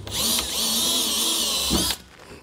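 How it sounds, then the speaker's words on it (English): Small drill bit boring through metal hitch mounting holes, a loud high-pitched whine held for about two seconds before the drill stops, with no talking. "I'm going to take a small drill bit here and just kind of mark those holes by drilling through"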